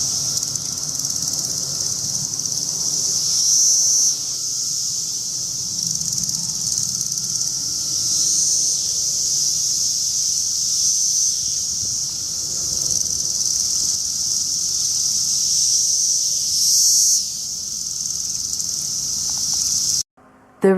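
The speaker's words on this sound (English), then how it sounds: "And the mating song of these males sounds like this." A loud, continuous droning chorus of male 17-year periodical cicadas singing their mating song, a steady high buzzing wall of sound that swells slightly in places and runs for about twenty seconds.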